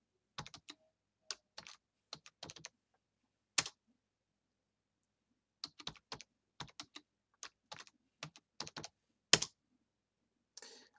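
A new password is typed on a computer keyboard for a BeagleBone Black Rev C, heard as quiet, close clicking keystrokes in short irregular clusters separated by silent pauses.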